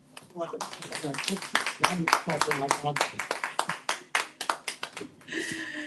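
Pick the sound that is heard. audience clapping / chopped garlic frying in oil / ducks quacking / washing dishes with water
audience clapping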